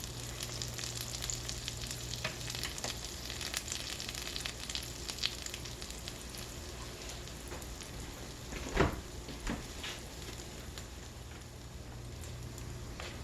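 Eggnog French toast fries in butter in a pan, giving a steady, soft crackling sizzle throughout with a brief louder spatter near the middle; no one speaks.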